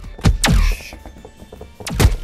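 Objects dropping in the VR game BONELAB, a few sharp hollow thunks and thuds landing close, with a heavier impact early and another near the end, separated by quieter shuffling.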